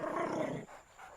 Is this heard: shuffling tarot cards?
no